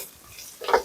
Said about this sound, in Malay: Dalam minyak ni yang kita goreng tadi kita masukkan bawang.